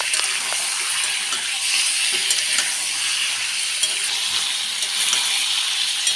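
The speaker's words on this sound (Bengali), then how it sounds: "লাল লাল করে চিকেনটাকে ভেজে নেব" Chicken frying in oil with spice paste, a dense continuous sizzle close up with occasional ticks of stirring, steady and loud throughout.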